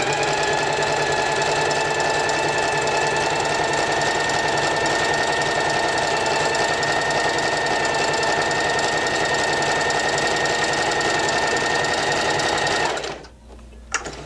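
Sewing machine stitching thin knit fabric on a flexible stitch setting, a loud, fast, even mechanical whir running steadily up close before stopping abruptly near the end.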